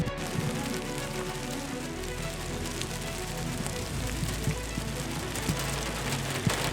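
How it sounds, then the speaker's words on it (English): Steady, dense patter of hail drumming on a surface close by, continuous and fairly loud with no talking. "It actually just started hailing"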